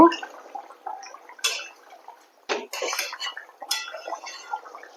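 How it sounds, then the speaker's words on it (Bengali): A pot of rohu fish curry with pumpkin stems is stirred and a metal lid set on it: scattered utensil scrapes and several sharp metallic clatters, close and moderately loud, with quiet gaps between. "জলটা দেওয়ার পর একটু নেড়ে চেড়ে আমি ঢেকে দিয়ে রান্না করব"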